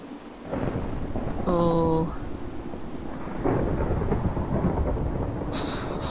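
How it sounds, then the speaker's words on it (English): Thunder rumbles low and steady during a thunderstorm in the video game Minecraft, with rain hissing underneath and a couple of brief game tones on top. "Lots of storm sounds."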